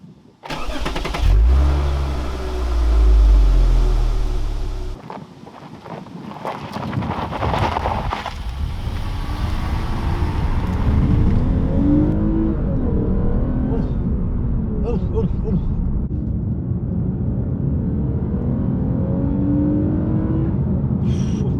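A Lexus RC350 F-Sport engine cranks and fires with a deep burst, then revs and settles into a steady running drone heard from close range.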